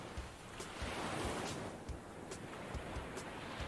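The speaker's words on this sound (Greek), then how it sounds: "Και δείτε πως σκάει το κύμα πάνω στα βράχια." Stormy sea surf breaks against rocks, with a constant roaring wash of water and wind. Several heavier crashes stand out from the steady noise, and no one speaks.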